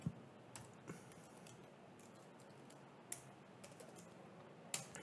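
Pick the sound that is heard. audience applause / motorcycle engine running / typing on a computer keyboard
typing on a computer keyboard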